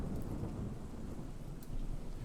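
Steady rain ambience with rolling thunder, played from a rain-sound website: a dense, even hiss of falling rain over a continuous low rumble, with no voices.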